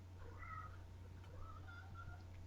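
A cat meowing indoors, several soft, drawn-out meows heard faintly over a low electrical hum.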